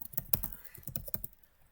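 Keys clacking on a computer keyboard during a short burst of typing, close and fairly quiet, with uneven clustered keystrokes and no speech.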